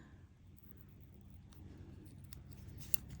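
Scissors snip once through a nail polish strip during a manicure, a quiet, short cut over a faint, low room hum.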